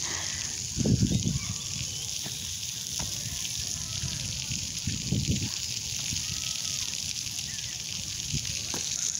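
Water splashes and sloshes from a fountain at a park water play area in Sunnyvale, California, a steady wash of spray with a few louder gushes, heard outdoors at moderate distance.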